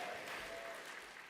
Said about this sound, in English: A round of applause for Carson's best look ever.